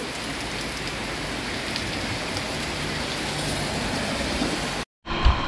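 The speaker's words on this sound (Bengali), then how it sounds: "ঝমঝম করে বৃষ্টি রাস্তার মাঝে স্টার্ট হয়ে গেছে" Heavy monsoon rain pours steadily onto a road in Keonjhar, a dense, unbroken hiss that holds at constant loudness before a brief cutout and a bump near the end.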